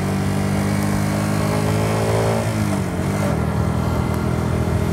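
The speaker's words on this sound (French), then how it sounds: "Là je crois que c'était un scooter 125" A 125cc motor scooter engine drones loudly and steadily close by, its pitch shifting as it passes, with no voices.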